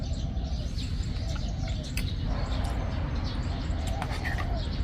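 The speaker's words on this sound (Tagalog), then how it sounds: "Nag-aawit ng mga ibon." Birds chirp and call intermittently against a steady, dense background rumble.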